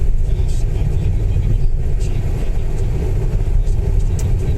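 Car engine droning steadily from inside a moving vehicle on a road, a constant loud low rumble with road roar and no clear change in pace.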